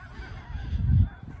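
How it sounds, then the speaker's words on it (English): Canada geese honking at night, a dense low chorus of many birds swelling briefly from a distance with no voices over it. "Seagulls, ducks, geese."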